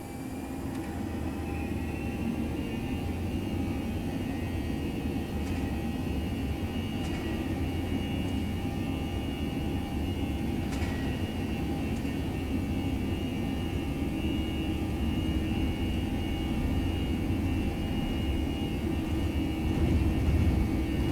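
A ToLiSS A321 airliner's jet engines in the X-Plane 11 flight simulator give a constant, dense roar with a steady whine that holds for about twenty seconds and swells slightly at the end.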